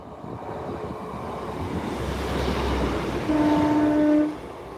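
A train at Swinderby railway station rumbles past with a low, building roar and wheel noise, then a sustained horn-like tone rings out briefly before the sound drops away.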